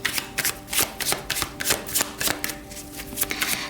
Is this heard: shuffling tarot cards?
yes